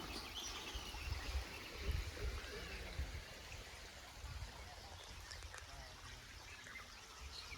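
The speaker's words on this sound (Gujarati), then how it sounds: "તો ધીમે ધીમે પાણી આવી રહ્યું" Irrigation water runs slowly and steadily into a freshly sown maize field, a soft continuous trickle and gurgle close by, with faint bird calls in the background.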